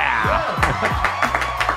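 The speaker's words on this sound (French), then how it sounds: "Je m'applaudis." A small studio audience claps and whoops for guest Martin Vachon, a short burst of cheering mixed with raised voices.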